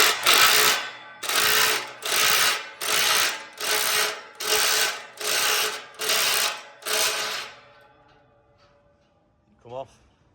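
A spanner ratchets handrail bolts tight in eight loud, evenly spaced bursts close by, each about half a second long, before falling quiet apart from a brief knock at the end.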